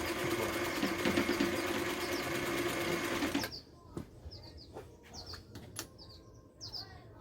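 A Singer 319w sewing machine stitches fabric with a fast, steady mechanical whir for about three and a half seconds, then stops, leaving faint clicks and chirps.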